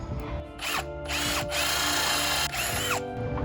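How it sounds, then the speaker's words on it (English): A power drill with a 1-inch paddle bit whirs in several bursts, spinning up and boring through a wooden board, loud and close with short pauses between runs. "Now I can take my 1-inch paddle bit and drill these holes."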